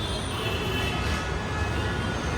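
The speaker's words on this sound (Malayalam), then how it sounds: "ഇത് മോളിൽ കൂട്ടി മെട്രോ പോകുന്ന." A loud, steady rumble of a Delhi metro train passing close by overhead, constant roaring noise filling the whole stretch with no pauses.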